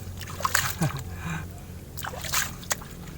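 Water splashes and sloshes in uneven bursts as shellfish are rinsed, with several quick splashes close by and a lapping wash in between.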